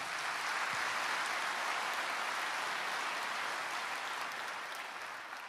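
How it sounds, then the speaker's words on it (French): An audience at a Zemmour event at the Zénith applauds steadily, a dense, even wash of many hands clapping at a distance, holding level and easing off slightly toward the end. "ce sont des applaudissements qui font plaisir"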